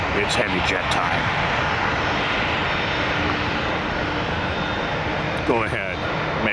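A heavy jet roars loud and continuous at Tampa airport, with voices heard briefly over the engine noise.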